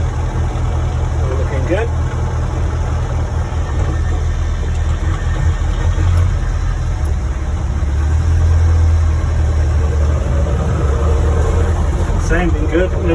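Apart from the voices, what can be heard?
Land Rover Series One engine idling while warming up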